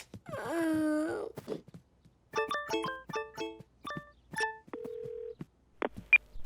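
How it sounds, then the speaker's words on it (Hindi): A cartoon character dials a telephone number: a quick run of distinct keypad tones in two bursts, clear and close, after a short groan-like voice at the start. "क्यों ना हम फ्लॉप को फोन लगाएं"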